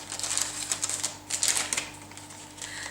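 Gift paper held with masking tape being carefully unwrapped, a close run of crisp paper crinkles and tape-peeling rustles in uneven bursts, with no talking.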